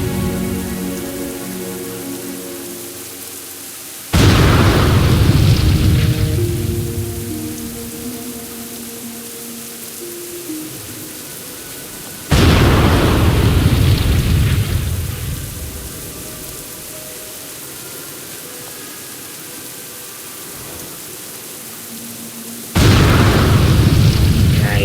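Three loud, booming explosions in the World of Warcraft video game erupt at roughly eight-second intervals, each a sudden burst that decays into a rumbling, crackling tail over a steady ambient game background.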